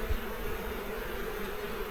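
Honeybees buzz steadily around a backyard hive during a swarm check, a dense, continuous drone of many wings close by with no talk.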